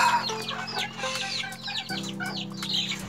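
Silver Sebright chickens clucking and chirping repeatedly at close range over a steady low hum, with no talk.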